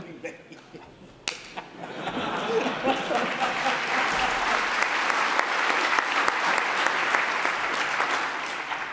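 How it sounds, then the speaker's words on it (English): A conference audience breaks into applause after a few scattered claps and a laugh. The clapping swells into a dense, steady ovation that fills the room and carries through to the end. "so we've had some practice at applause"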